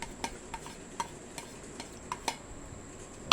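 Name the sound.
stirring sweet and sour salmon belly ingredients together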